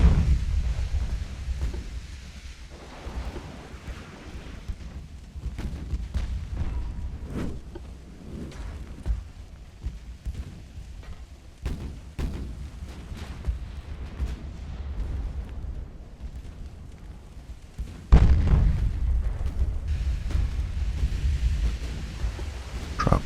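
Booming naval gunfire and torpedo impacts in the warship game Ultimate Admiral: Dreadnoughts, deep rumbling blasts scattered over a noisy sea-battle backdrop, with a heavy explosion standing out near the end.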